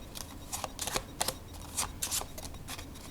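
Quick bursts of a pack of playing cards being riffled and shuffled close up, crisp fluttering rasps repeating in short uneven spurts.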